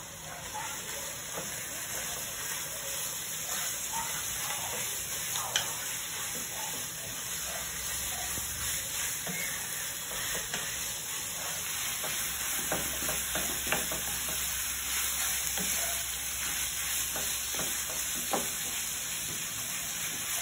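Ground pork frying in a pan for baked macaroni gives a steady, close sizzle for the whole stretch, broken by scraping stirs and small crackling pops, with no talking.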